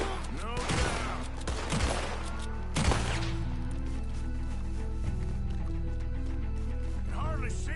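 Gunfire rings out during a nighttime shootout in Red Dead Redemption 2, with several sharp shots in quick succession early on and scattered later, under voices talking and background music.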